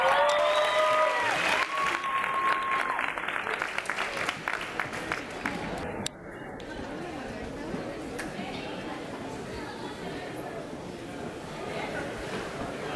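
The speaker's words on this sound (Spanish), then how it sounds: "Un aplauso para ellos," Audience applause and cheering for the Ciudad Guzmán group at a stage event, clapping fading and thinning after a few seconds into crowd chatter and murmuring with voices over it.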